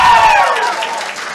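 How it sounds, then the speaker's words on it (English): Brief applause from a university panel audience, a short loud swell of clapping that fades quickly within about a second. "And let us applaud Dr."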